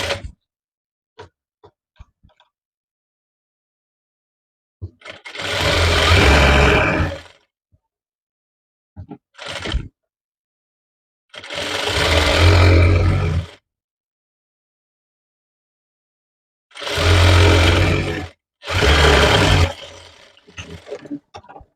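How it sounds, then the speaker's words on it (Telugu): Sewing machine stitching a prince cut blouse, running in several loud whirring bursts of a second or two each, separated by silences and small clicks. "రెండో సైడ్ ఇలా కింద నుంచి స్టిచ్ వేసుకోవాలి"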